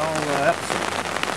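Steady rain patters on surfaces at a campsite during campfire cooking, a dense continuous hiss that runs the whole moment with faint voices underneath.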